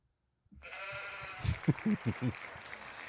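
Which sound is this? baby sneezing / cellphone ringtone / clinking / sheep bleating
sheep bleating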